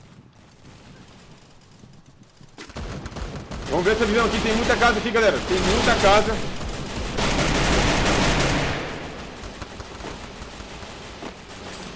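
Bursts of gunfire in the Free Fire video game, rapid fusillades rising loud in the middle and then tapering off, while a player talks over the shooting.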